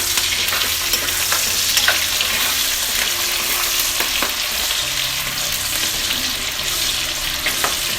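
Onions frying with salt in hot oil in a village-style Assamese kitchen, a steady close sizzle with occasional crackles and stirring scrapes, running continuously with no talk.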